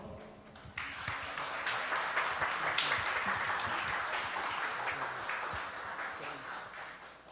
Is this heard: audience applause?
yes